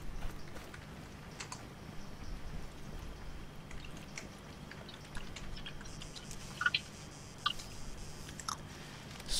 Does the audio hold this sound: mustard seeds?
no